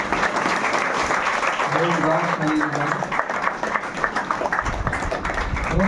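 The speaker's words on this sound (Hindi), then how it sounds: "बहुत सुंदर ताली बजाएं" Sustained, dense applause from an audience at a spiritual class in Lodhi Road, New Delhi, with a voice speaking over the clapping and a low thump near the end.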